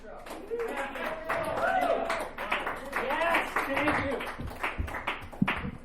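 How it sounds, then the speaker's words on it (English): At a dive bar comedy show, an audience applauds as a comedian comes on stage, with steady clapping and crowd noise throughout and speech rising over it. "Keep that applause going"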